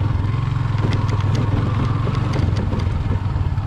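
A motorcycle engine running close by, a steady low rumble with some clatter, holding roughly even loudness throughout.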